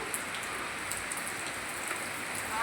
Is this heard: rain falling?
yes